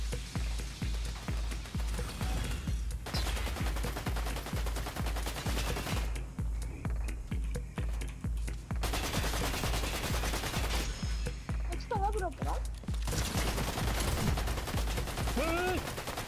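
Rapid gunfire from the video game Fortnite, repeated bursts of shots crackling steadily through the whole stretch over game music, with a few faint tonal effects and distant talk mixed in.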